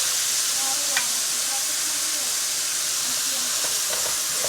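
Ground beef frying over high heat for crispy tacos, giving a steady broadband sizzle with faint stirring scrapes and occasional soft pops, close and continuous.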